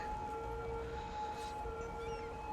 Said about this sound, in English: Hopefully we get out of the area where the siren is